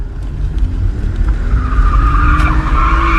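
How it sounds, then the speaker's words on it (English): A car drifting with tires skidding and squealing, a sustained loud screech over engine roar that rises and holds throughout, close by with no talking. "the guy decides to start drifting"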